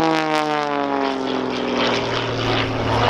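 An Xtreme Air XA41 aerobatic propeller plane flies at the Dunsfold Wings & Wheels airshow, its engine and propeller roaring loud and steady, the pitch sliding gently downward as it passes.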